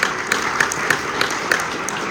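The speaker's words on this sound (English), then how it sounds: "Very dignified applause, that, wasn't it?" Theatre audience applauding at a live author interview, a steady, moderate wash of claps filling the room with scattered sharper hand claps standing out, polite rather than enthusiastic, no talking over it.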